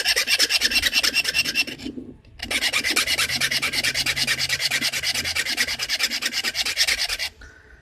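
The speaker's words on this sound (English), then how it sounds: "I'm gonna sharpen my tool back up and get ready to do some notching." A rough rasping file or abrading stone is scraped rapidly back and forth over a flint knapping tool to resharpen it before notching black grey glass, loud and close, with a brief pause near two seconds and no talk.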